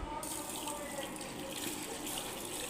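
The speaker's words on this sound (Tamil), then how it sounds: "தண்ணி ஆட் பண்ணிக்கலாம்." Water pours steadily from a tap into a kitchen bowl holding salt and turmeric, ready for washing ivy gourd. It is a constant, close, fairly loud splashing stream with no talking.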